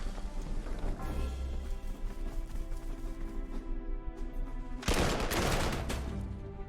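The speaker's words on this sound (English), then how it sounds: "Oh, that artillery." Artillery fire in the Panzer Corps 2 strategy game: a rattling series of shots and impacts, followed by a louder, sharper burst near the end, all moderately distant.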